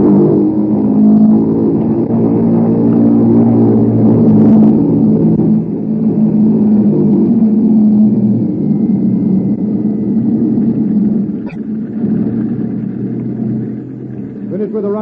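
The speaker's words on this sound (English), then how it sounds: "we were completing our engine run up at the head of the runway" Bomber aircraft engines running up at the head of the runway, in a radio drama effect: a loud, heavy, steady rumble that fades a little toward the end, with a brief clank near the close.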